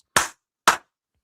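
Two sharp, close hand claps about half a second apart, alone in silence, offered as a round of applause during a casual sports discussion.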